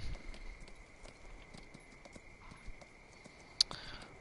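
Horse hooves clip-clop at a walking pace in Farming Simulator 19, a soft, regular series of game hoof sounds over a faint steady tone, ending with a sharp brief click.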